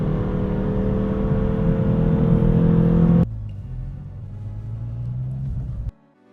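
A Renault Twingo RS engine heard from inside, a loud steady drone that builds and then drops suddenly to a lower hum, as on a gear change, before cutting off at the end.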